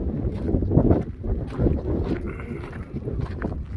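Wind gusts across a microphone outdoors at a flat campground with fire rings, a fluctuating rumbling buffet that rises and falls throughout, fairly close and moderately loud, with no voices.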